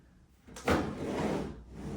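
A drawer on a wooden printer stand with plywood and hardwood veneer slides open or shut in one soft, brief rumbling pass, quiet and close.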